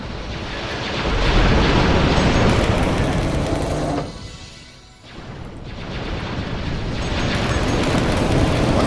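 A space fleet opens fire on a dreadnought in a Star Wars strategy battle: loud, dense barrages of blaster and cannon fire roar continuously, dip into a brief lull, then surge back just as heavy.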